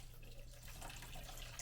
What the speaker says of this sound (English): I'm going to use filtered water and just put in a bunch.